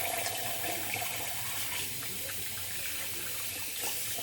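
Cold tap water runs steadily into a sink while someone rinses after a wet shave, a soft continuous hiss and splash with no voices.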